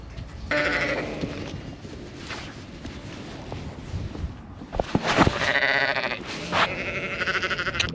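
Sheep and lambs bleat in an open field, several drawn-out calls rising and overlapping at moderate distance over a steady outdoor background.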